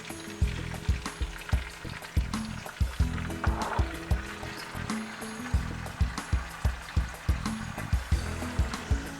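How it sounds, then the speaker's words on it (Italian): Wine is poured into a hot pan with seared roast meat. It sets off a loud, continuous sizzle of frying liquid, with regular rhythmic pulses running through it and no speech over it. "Adesso aumento un po' la fiamma e vado ad aggiungere il vino."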